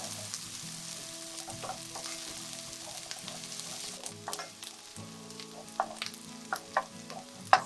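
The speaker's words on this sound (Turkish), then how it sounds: "Ve soğanları yakmadan güzelce kavuruyorum." Chopped onions fry in hot oil in a pan, a steady soft sizzle with small crackles and occasional stirring clicks, quiet and close with no talking.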